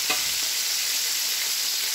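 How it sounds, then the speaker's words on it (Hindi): Pieces of chicken deep-frying in hot oil for crispy KFC-style fried chicken, a steady, close, even sizzle and hiss that continues throughout with no talking. "इसी तरह हमने तमाम ये डाल लेने हैं और इसको फ्राई करना है।"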